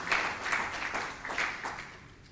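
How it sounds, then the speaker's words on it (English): Audience applause for Dr. Kaitesi at a regional anti-corruption conference, a fairly faint, steady patter of many hands clapping that lasts throughout, with slight swells and no one speaking over it. "Another round of applause to"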